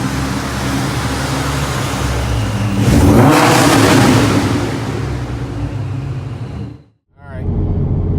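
A V6 Ford Mustang with a custom exhaust revving up close, a steady rumbling idle that swells into a louder, rising rev around the middle, settles back, then briefly cuts out before the idle returns.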